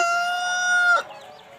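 A rooster lets out a single loud, close crow with a sustained, clear tone that cuts off abruptly, leaving faint background noise.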